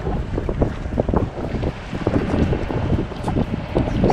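A sailboat sails into the harbor at Staniel Cay in the Bahamas, with steady, loud wind buffeting the microphone over the rushing water and hull noise throughout, and no voices.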